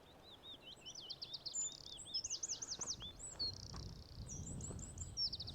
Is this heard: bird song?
yes